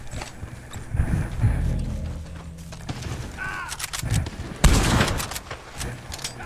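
Gunfire in the western video game Red Dead Online: several sharp, loud shots crack in a quick cluster, mixed with horse hooves and galloping noise.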